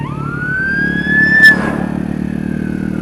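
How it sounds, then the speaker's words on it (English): Ambulance siren passing nearby, a loud rising wail that sweeps up and holds over steady traffic engine rumble, with a brief burst in the middle. "Ambulance."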